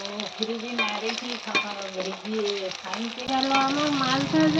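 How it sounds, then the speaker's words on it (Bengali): Large katla fish belly pieces fry in a pan for a potato and fish kalia, giving a steady sizzle and crackle. Someone talks over it the whole time. "গেল আমার মাছ ভাজা, এখনো আছে, ভাজতে হবে। লাল লাল করে ভেজে নিয়েছি।"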